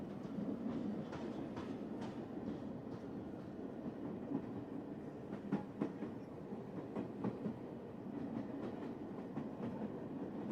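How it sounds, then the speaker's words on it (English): A train arriving, heard as a steady rumbling roar with rhythmic clickety-clack of wheels over rail joints, continuous and moderately distant throughout. "Here comes the train."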